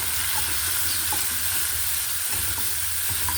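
Tomatoes dropped into a pan of sautéed onions sizzle and crackle steadily, a close, continuous frying hiss with faint stirring scrapes.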